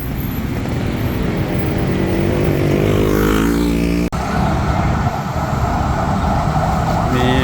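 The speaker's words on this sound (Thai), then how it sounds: "รถพยาบาล ผานไปก่อนครับ" An ambulance's wailing siren sweeps up and down over heavy, close traffic rumble as it passes, with no one speaking.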